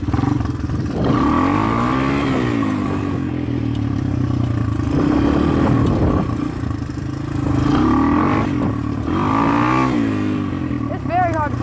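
A dirt bike engine drones loudly and steadily while it is ridden, with revving surges and clattering from the machine, and a rider talks over it.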